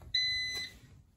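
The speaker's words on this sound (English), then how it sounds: "We have beeps." A short, high electronic beep tone rings out once with a faint second tone layered in, then fades against quiet low background noise.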